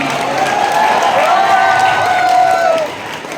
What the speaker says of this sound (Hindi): एक बार जोरदार तालियों से खड़े होकर स्वागत कीजिए